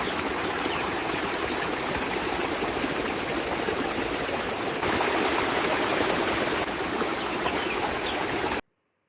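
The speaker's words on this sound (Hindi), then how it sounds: "यहाँ हमेशा पानी इस तरह से बहता रहता है, खेतों में भी जाता है" Water flows steadily into a trough that also feeds the fields, making a constant rushing splash with faint bird clucks mixed in before it cuts off abruptly.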